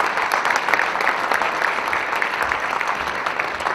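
Applause from an audience at a security conference talk, a steady wash of many hands clapping at even loudness throughout, with no voices rising above it.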